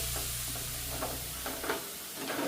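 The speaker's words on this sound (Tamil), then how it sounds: "இந்த எள்ளையை வந்து நல்லா வறுத்தெடுக்கும்." Sesame seeds roasting and being stirred in a pan give off a soft, steady dry sizzle, with faint scraping strokes recurring throughout.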